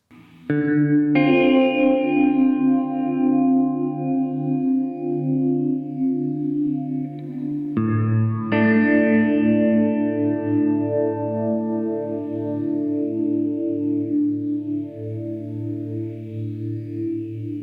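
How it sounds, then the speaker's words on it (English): Sustained guitar chords through a Hardwire Supernatural pedal's hall reverb with a hint of phasing wash out into spacious reverb with a slow swirling phase sweep, played steadily with a fresh strum about halfway through. "that's a hall reverb with a hint of phasing added"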